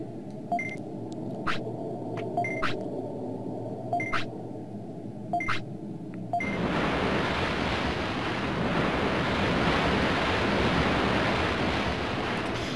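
Ocean waves wash through a beach cave in the PS1 game Digimon World, a steady broad surf roar that takes over after several seconds of sparse, regular tones and clicks.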